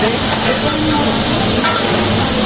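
Food sizzling in a frying pan as a man cooks, a steady dense hiss throughout with faint stirring and clinks, close and continuous.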